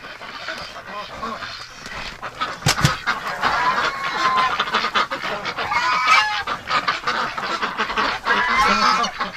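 Geese honk loudly and ducks quack nearby, a busy overlapping chorus of calls with no talking.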